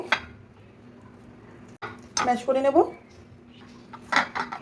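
Boiled potatoes are mashed in a pot in a small home kitchen for a fish dish, giving scattered metallic clinks and scraping clatter of utensil against cookware, with a voice briefly audible.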